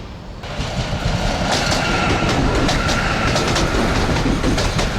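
A modern Ukrainian train rumbles loudly and continuously along the tracks, with rhythmic clicking of wheels over rail joints and a faint squeal on top.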